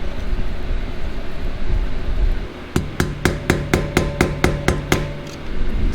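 A hammer taps a flathead screwdriver against the wheel hub of a 1988 Toyota 4x4 van during a manual hub conversion, about ten sharp, evenly spaced metallic strikes, loud and close, following a low rumble.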